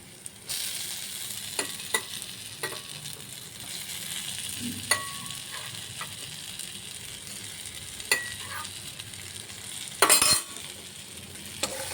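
Potato and duck egg curry sizzling in a pan while being stirred, a continuous frying hiss with occasional sharper scrapes and clinks of the spoon, close and fairly loud.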